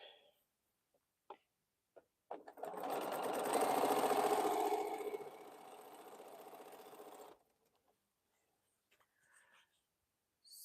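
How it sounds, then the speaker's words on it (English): A sewing machine runs in one steady burst of about five seconds while sewing a row of quilt blocks, humming and whirring close by, preceded and followed by a few soft clicks. "now we're sewing the middle row"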